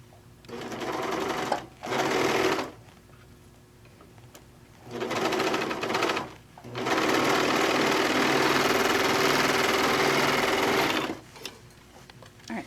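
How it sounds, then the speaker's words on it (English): A sewing machine stitches across a fat-quarter tote bag seam in three running bursts, two short ones and then a long steady run of several seconds, with quiet pauses between them. "And then we're going to sew across."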